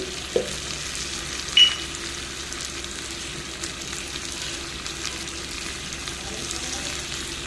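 Meat in a pan with a pinch of turmeric and cumin powder fries with a soft, steady sizzle close by, broken by a couple of brief knocks early on.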